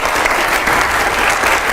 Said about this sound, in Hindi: एक बार जोरदार तालियां हो जाए मेरे इसके लिए।